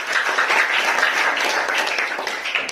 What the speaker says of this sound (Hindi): सब इसके लिए तालियां बजा दो भाई सब।